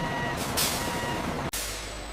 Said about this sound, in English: heavy fleet tanker trucks arrive directly from certified local dairy farms.